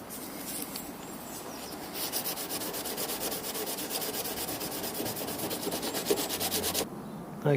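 Steady, continuous rasping of sandpaper rubbed back and forth over body filler on a Mazda MX-5 Miata NB spoiler, close and fairly loud, ending abruptly.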